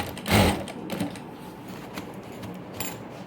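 A sewing machine stitches elastic into a plazo, giving a louder burst of mechanical stitching near the start followed by quieter intermittent machine clicks and whirring.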